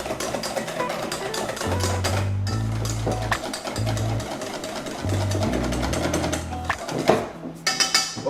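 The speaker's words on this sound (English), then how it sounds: "Let's just whisk this up now." A whisk beats a bread pudding mixture in a bowl, giving rapid, uneven clattering strokes close by, with short pauses between bursts and no talking.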